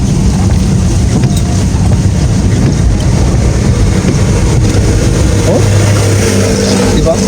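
Van engine roaring while descending a steep mountain road in the Philippines, a loud continuous low rumble mixed with heavy wind buffeting on the microphone.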